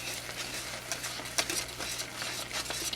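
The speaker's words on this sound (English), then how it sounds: "continue stirring for about 10 minutes" Thick polenta is stirred in a pot, a soft, continuous scraping and swishing with a low steady hum beneath and occasional louder scrapes, no talking.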